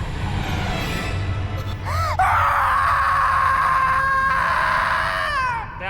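A drawn-out scream from a horror TV episode set in Hollywood, rising sharply and then holding a long wavering high pitch for about four seconds over a dense, noisy background before cutting off.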